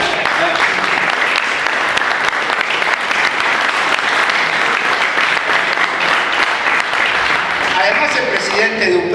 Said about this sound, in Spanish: Y Graciela, sí, un aplauso.